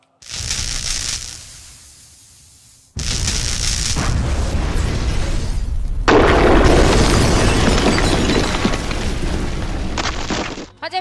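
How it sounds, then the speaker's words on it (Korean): Simulated gas pipe explosion during a safety drill in the ground-floor air-handling room of an education center building: loud, close booming bursts that roar on for several seconds, with a brief lull before a second, sustained blast. "현재 본동 지상 1층 공정실에 가스관이 폭발하여"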